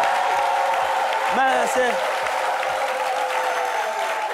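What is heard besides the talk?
studio audience applause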